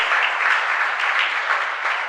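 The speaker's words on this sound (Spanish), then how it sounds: "Un fuerte aplauso también a la Capilla San Juan." Steady, dense applause from a congregation during a live Catholic mass in a parish church, continuous and fairly loud, with no voices over it.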